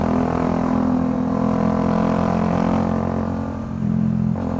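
Bajaj Dominar 400 motorcycle with an SC Project exhaust fitted with only a mesh silencer, droning loud and steady on a night ride, its engine note briefly dipping near the end before returning.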